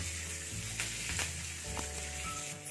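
Hot oil sizzles as a tadka of red chilli, curry leaves and hing fries for a South Indian tomato garlic chutney, a steady close crackle with brief stirring bursts and an underlying low hum.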